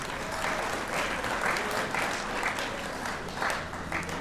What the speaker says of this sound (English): we'd like to give our district governing board a round of applause